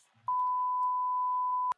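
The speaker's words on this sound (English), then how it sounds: "I've never been beeped before." One steady electronic tone sounds close and clear, holding at an even pitch for about a second and a half before cutting off sharply.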